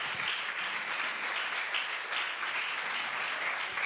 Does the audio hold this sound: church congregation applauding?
yes